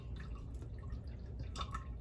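Clear water drips and trickles from a filter in a few soft, close splashes over a low background hum, faint and brief.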